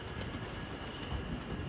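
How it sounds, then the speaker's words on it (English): London Overground Class 710 electric train pulling into Watford Junction on the West Coast Main Line, a steady broadband rumble and rail hiss held close and even for under two seconds with no talking. "Terminating her way in now will be a terminating London Overground service from London Euston"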